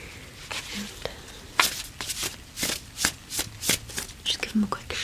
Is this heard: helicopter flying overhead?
no